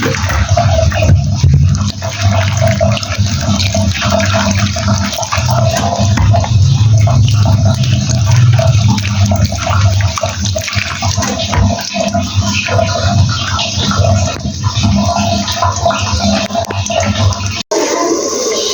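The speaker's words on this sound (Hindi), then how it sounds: "छिलके तो उतर गए हैं, ये दरमियान वाली जगह फिर भी मट्टी लग रही है, तो सही से धो लेते हैं" Peeled apples washed under running water for apple murabba, a loud, steady gushing and splashing stream that continues throughout before ending abruptly.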